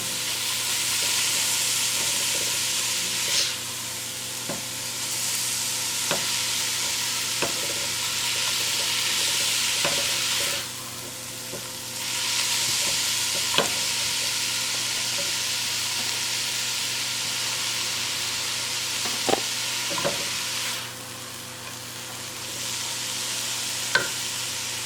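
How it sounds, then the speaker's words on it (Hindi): Grated bottle gourd sizzles steadily in hot butter in a pan, a loud continuous frying hiss broken by periodic taps and scrapes of a spoon stirring it. "थोड़ा सा लौकी को इसमें 1 मिनट हम इसको भूनेंगे इस बटर में।"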